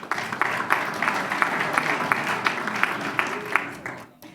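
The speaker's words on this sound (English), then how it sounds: "Let's give another round of applause to the fashion design team from Bel Air High School." Audience applause at a school district board meeting for a high school fashion design team, a sustained burst of many hands clapping with sharp individual claps, fading out at the end.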